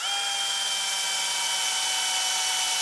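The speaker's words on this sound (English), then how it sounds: "Again, screw it in." A power driver spins a screw into an aluminum rod during quail cage assembly, a continuous high-pitched motor whine held at steady loudness for about three seconds.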